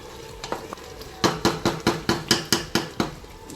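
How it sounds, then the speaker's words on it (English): A spoon stirs coconut-milk jollof rice in a pot, knocking the sides in a quick, even run of about ten close scrapes and taps over a soft background sizzle. "So let's give it a little stir"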